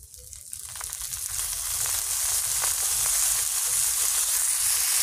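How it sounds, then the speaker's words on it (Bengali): Spice powder and paste frying in oil as a base for a fish dish, giving a steady, close sizzle that swells after the first second and stays loud and even to the end. "তারপরে আবার অল্প অল্প করে তেল দিতে থাকতে হবে, দিলে সুন্দর আস্তে আস্তে মচমচে ভাজা হবে"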